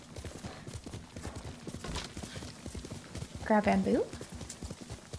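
Horse hooves clip-clop at a steady gallop in the video game Ghost of Tsushima, with a sharp whinny near the end, while someone talks over the hoofbeats.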